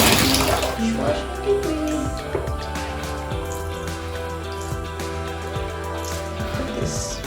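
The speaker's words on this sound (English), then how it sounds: "Okay, so in the tub we got hot water." Hot water runs steadily from a tap into a bathtub as it fills for soaking an oven part during home cleaning, a continuous splashing rush that stays moderately loud throughout.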